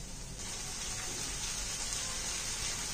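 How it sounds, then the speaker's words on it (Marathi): Hot water poured into a horse gram dish makes a steady gushing splash, close and continuous throughout, with no voices. "थोडंसं गरम पाणी टाकूया"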